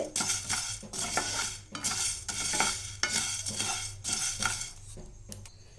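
Rasam powder spices dry-roasting in a pan on a low flame, stirred with a utensil: rhythmic scraping strokes roughly every second, close and clear, with a soft sizzle beneath and no talking.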